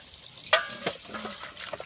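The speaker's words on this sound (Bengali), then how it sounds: "ঝোল ভালো করে ফুটে গেছে এবার নামিয়ে নেব" Fish curry with Malabar spinach and potato bubbling in a pan: soft simmering sizzle with a sharp clink and light stirring scrapes, close and brief.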